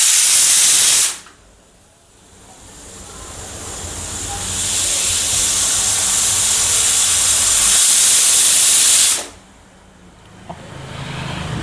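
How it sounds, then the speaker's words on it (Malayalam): A pressure cooker vents steam in loud, sharp hisses, a roaring burst at the start, then a long rising jet that holds for several seconds before cutting off abruptly, with a short quiet gap in between. "കുക്കർ തീറ്റുന്നു."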